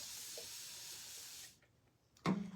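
A spray bottle hisses onto the back of a printed pillow cover transfer in a long steady burst, then stops, followed by a short sharp handling noise, close and alone.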